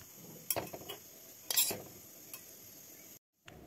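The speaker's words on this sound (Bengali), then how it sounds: "কোনো রকমে এগুলিকে মিলাচ্ছি চামচ দিয়ে" A spoon mixes pitha batter in a bowl, giving a few soft scrapes and clinks in short bursts over a quiet background, then a brief silence.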